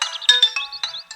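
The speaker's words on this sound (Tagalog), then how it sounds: "Agre-ring ti cellphone ko." A mobile phone ringtone rings in a domestic drama scene, a bright electronic melody of quick repeated chiming notes playing clearly and alone at moderate loudness.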